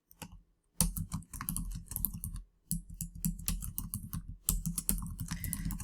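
Typing HTML code on a computer keyboard: quick, close clattering keystrokes in three bursts separated by short pauses, crisp and fairly quiet, with no talking.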